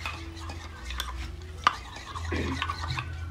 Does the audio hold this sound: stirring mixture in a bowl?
yes